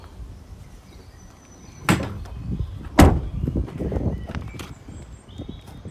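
The rear door of a 2019 Ford Transit 2.0 EcoBlue 130 L1H1 van is shut with a firm thud, followed by a second clunk and some faint rattling and handling sounds nearby.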